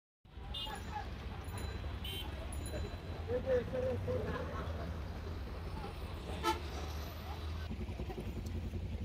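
Car horns toot repeatedly in a traffic jam on Babu Bazar Bridge over the Buriganga River in Dhaka, short bursts over a low rumble of idling vehicles and engines, with a person talking nearby.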